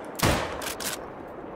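A rifle shot fired while hunting a moose in a video game cracks out loudly, followed a moment later by a second fainter report, with a short decaying tail.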